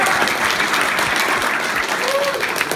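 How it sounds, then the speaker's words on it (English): A convention audience at a retro gaming show applauds, a dense, steady patter of many hands clapping that stays loud and continuous from start to finish. "More claps! More claps!"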